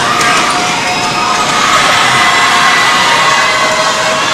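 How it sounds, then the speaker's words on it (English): A home crowd at a high school basketball game, Valhalla against El Cajon Valley, roars and cheers in a loud, dense, continuous wash of noise that fills the whole stretch. "the Brave crowd trying to make a little noise"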